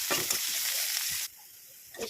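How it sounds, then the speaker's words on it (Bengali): Garlic and onion are stirred in hot oil for a leafy greens stir-fry, giving a loud, close sizzle with scraping strokes. The sizzle drops to a quieter hiss partway through, then one more stir scrape follows. "নাড়া দিয়ে লই"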